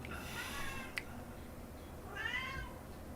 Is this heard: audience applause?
no